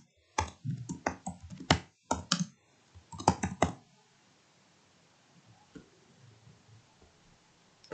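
Short bursts of typing on a computer keyboard while writing ad text, clustered clicky keystrokes in two quick runs, then fading to faint scattered taps in a quiet room.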